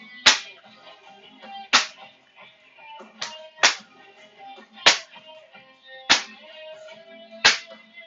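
Sharp, snappy strikes ring out one at a time, seven in all at uneven intervals, each a crisp paper-punching crack up close in a quiet room.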